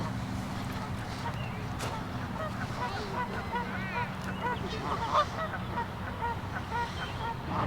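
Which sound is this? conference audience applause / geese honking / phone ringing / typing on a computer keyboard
geese honking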